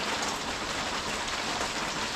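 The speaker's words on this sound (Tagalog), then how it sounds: "Kahit umuulan. Umuulan." Steady rain pours down outdoors during a catch-and-cook trip, a dense, even hiss of drops on surfaces that holds constant throughout with no talking.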